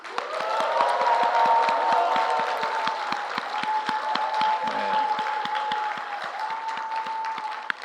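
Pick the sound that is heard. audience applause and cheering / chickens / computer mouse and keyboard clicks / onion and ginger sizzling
audience applause and cheering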